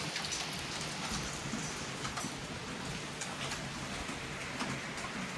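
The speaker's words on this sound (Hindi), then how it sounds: "तो मस्त बारिश हो रही है" Steady rain falls in a dense, even hiss with scattered drops ticking on nearby surfaces, constant throughout and heard alone at moderate volume.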